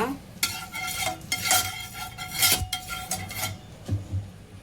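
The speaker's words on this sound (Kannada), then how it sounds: "ಪ್ಯಾನ್ ಇಟ್ಟಿದ್ದೇನೆ, ಅದಕ್ಕೀಗ ಸ್ವಲ್ಪ ಎಣ್ಣೆ ಹಾಕಿ ಸ್ಪ್ರೆಡ್ ಮಾಡುವ" A utensil scrapes steadily across a hot pan as a little oil is spread before cooking chapati for an egg roll, and a soft sizzle runs underneath the repeated strokes.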